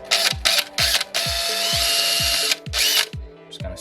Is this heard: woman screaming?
no